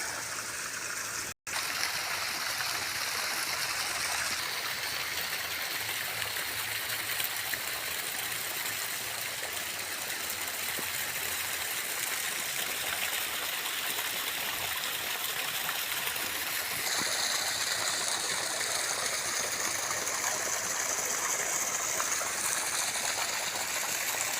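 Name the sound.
pumped river water flowing out for watering durian trees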